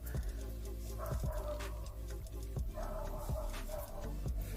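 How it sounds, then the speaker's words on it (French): A dog getting agitated, barking in a few short, sharp yaps and whimpers at a distance, partly masked by steady background noise and indoor sounds. "Il y a un chien qui est en train de s'énerver,"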